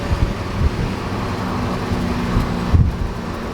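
A 1966 Toyota Stout pickup with a swapped Lexus V8 cruises along, its steady engine drone and road rumble heard from inside the cab, with wind noise and no talk.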